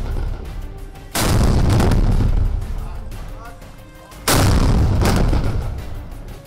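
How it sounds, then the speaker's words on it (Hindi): A Sarang artillery gun fires two heavy, booming shots a few seconds apart, each a loud blast that rumbles and slowly fades away. "धमाका ऐसा कि सुनकर दिल दहल जाए"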